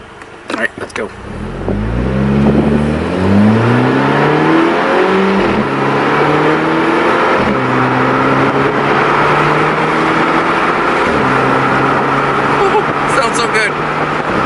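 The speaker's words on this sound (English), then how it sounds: "At high RPM, you do get those sweet DSG farts, though." A Volkswagen MK6 with its muffler deleted accelerates loudly through several gear changes, the engine note climbing and dropping at each shift with short popping bursts from the DSG gearbox, heard close from inside the car while someone talks.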